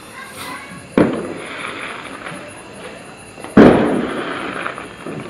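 Diwali firecrackers are burst at a home celebration, with two sharp, loud bangs a few seconds apart, each trailing off into a crackling decay above faint background noise.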